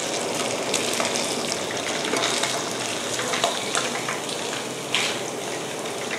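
Snakehead fish frying in hot oil, a steady dense sizzle and crackle that stays close and even throughout, with no talking.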